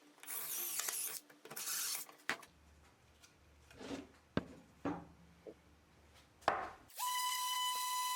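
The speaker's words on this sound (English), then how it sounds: "And then here, using my countersink bit," A countersink bit bores a recessed screw hole in a wooden floating shelf. Bursts of harsh grinding give way to scattered scrapes and taps, then a steady whining drill motor at the end.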